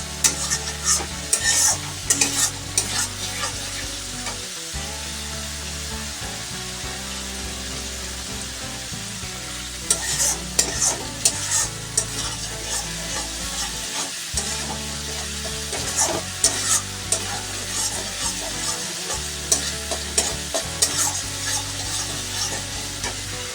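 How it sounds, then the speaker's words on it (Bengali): Spice masala for katla fish curry fried in oil while being stirred, a loud continuous sizzle with steady scraping of a spoon against the pan, close and running throughout without talk. "যদি তোমরা নাড়তে থাকো তাহলে আর তেলগুলি কিন্তু ছিটে ছিটে আসে না আর সুন্দর কষানোও হয়ে যায়"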